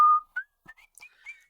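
A person whistles a short, wandering tune like Jiminy Cricket during a tabletop role-playing session: a held opening note, then a few brief, broken phrases, clear and close with gaps between them.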